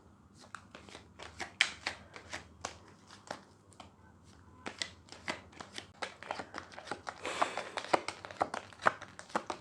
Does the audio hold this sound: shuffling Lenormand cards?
yes